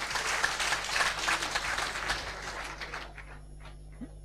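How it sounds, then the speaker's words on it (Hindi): Audience applause at a state meeting in Kolkata rises as a loud, dense patter for about three seconds, then fades out into near silence. "जोरदार तालियां एक बार सबके लिए।"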